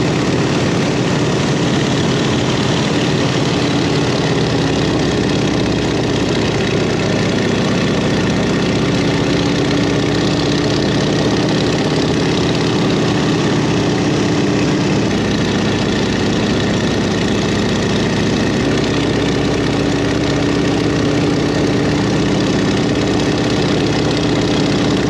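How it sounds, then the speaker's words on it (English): A 100-year-old four-wing biplane's engine in flight: a loud, continuous clattering drone close by, steady throughout with wind buffeting mixed in and no talk. "And just listen to that engine clatter."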